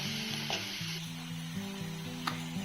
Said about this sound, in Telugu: ఈ పేస్ట్ అనేది లైట్ గోల్డ్ కలర్ వచ్చేంత వరకు లో ఫ్లేమ్లో ఫ్రై చేసుకోవాలి.